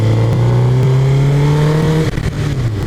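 Suzuki GSX-R 1000 K5 Stealth sportbike engine revving up close, a steady rising howl that climbs in pitch for about two seconds, then drops off abruptly into a rougher, choppier idle.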